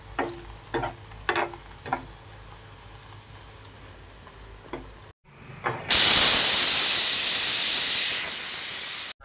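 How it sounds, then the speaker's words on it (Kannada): A few clinks and knocks, then a sudden loud rush of hissing steam from an opened pressure cooker, sustained and slowly easing. "ನೋಡಿರಿ ಕುಕ್ಕರ್ ಓಪನ್ ಮಾಡ್ತಾ ಇದ್ದೀನಿ"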